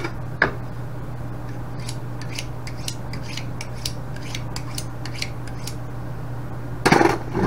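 A knife minces crushed ingredients for a steak marinade on a kitchen chopping board: quick, irregular light taps and scrapes over a steady low hum, with a sharper clatter near the end.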